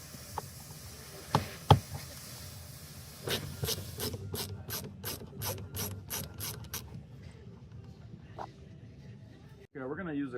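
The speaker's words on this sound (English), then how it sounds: "Okay, we have a Phillips screwdriver." A Phillips screwdriver ratchets out screws from the arm rest trim of a Toyota Land Cruiser, giving a steady run of sharp, close clicks after a few knocks, then fading to quieter handling.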